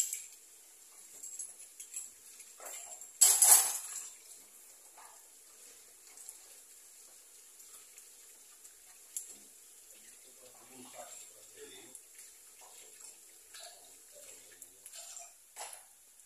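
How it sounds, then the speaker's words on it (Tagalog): Hot water runs from a tap during garlic garnish preparation, a faint steady hiss with a brief louder splash early on and scattered light kitchen clatter. "Sobrang init na tubig."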